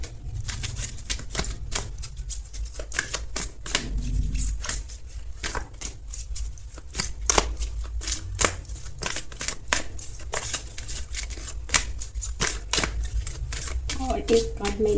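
Tarot cards shuffled by hand in a Hindi tarot reading, a steady run of crisp riffling snaps and soft slaps close by, with a voice talking intermittently over the card handling.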